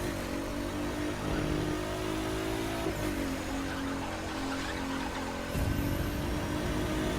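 A Nissan GT-R R35 in the racing game The Crew 2 accelerates through the gears, its engine tone climbing and dropping at each shift and jumping sharply near the end, at a moderate level with no talk.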